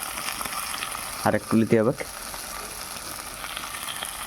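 Fish frying in a pan with a light sprinkle of salt, a steady crackling sizzle that runs the whole time, with a short burst of speech in the middle.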